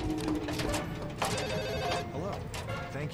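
A telephone rings in a horror video game, its repeated trilling bell running steadily across the moment over layered game ambience and music, with a voice talking at points.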